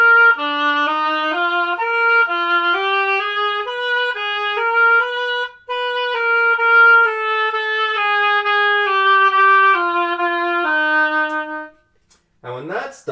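A wind instrument plays a Ferling etude passage with its upper octave taken down an octave, a steady legato line of clear sustained notes moving stepwise, played alone with a brief pause midway and a short spoken voice at the end.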